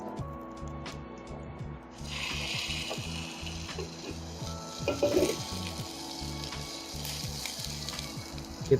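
Shallots and garlic hiss and sizzle in a hot pan, a steady close frying crackle that swells as they go in, with occasional stirring scrapes.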